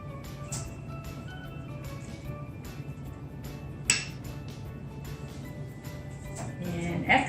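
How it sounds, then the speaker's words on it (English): Cut-out sugar cookies, including a large circle and oddly shaped pieces, being set onto a metal baking pan, giving soft scattered clinks and taps over faint room noise, with one sharper knock near the middle. "So we're going to set some of our cookies, even our big circle cookie and our funky cutout cookie, on our pan."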